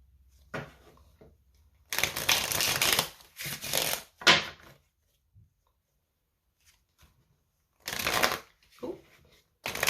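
Tarot cards shuffled by hand up close in a quiet room, with several bursts of riffling and rustling separated by silent gaps.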